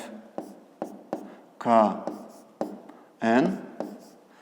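Chalk or marker strokes on a board during a fifth-grade geometry lesson on angles: short, sharp taps and scratches at a steady pace, interleaved with a person speaking.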